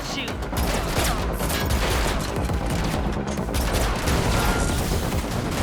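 Rapid bursts of gunfire shooting at car tires during a car chase in The Matrix Awakens, an Unreal Engine 5 game, crackling loud and continuous over engine roar, with voices talking underneath.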